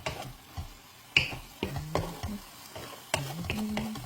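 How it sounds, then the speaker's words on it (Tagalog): Eggplant and egg being stirred in a frying pan, with scattered scraping strokes of a utensil and a soft sizzle underneath, close and moderately quiet, no talking. "Mamix na to karong ang eggplant ug ang itlog ay."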